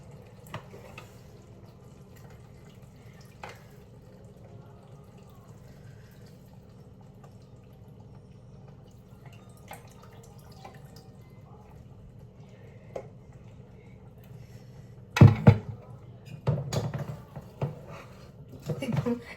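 A mixer jar that held ginger-garlic paste is rinsed with leftover chicken water. A long, quiet stretch with faint talk gives way near the end to a few brief, close sloshing splashes.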